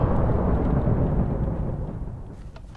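Deep rolling thunder rumbles through a video game storm, loud and broad from the start, then slowly fading over a few seconds.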